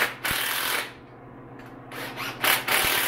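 Power tool driving GM head bolts into a turbo engine cylinder head, several short bursts of whirring separated by brief pauses and clicks, close and loud.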